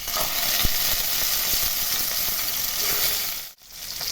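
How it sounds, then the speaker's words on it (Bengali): Fish sizzles steadily in hot mustard oil in a wok, a dense continuous crackle and hiss close up that carries on without a break and then drops out abruptly near the end. "মাছগুলো ভাজতে চাপিয়ে দিয়েছি"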